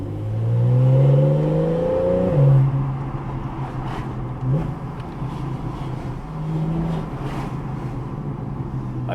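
A 2015 Porsche 911 991.1 GTS engine revving in an enclosed space: a loud rising howl that climbs sharply, then falls away into a lower, rougher rumble with a brief blip.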